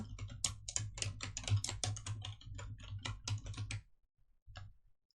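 Quick bursts of computer keyboard typing during a PowerPoint lesson, keys clicking in a steady run for about four seconds, then a pause and one last short burst; close, fairly quiet, and no talking.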